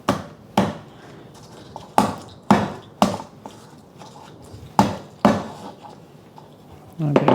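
Garlic cloves are knocked and pressed against a wooden board to loosen their skins, giving sharp isolated thuds every second or so, each followed by a short rustle, close and clear with no voices.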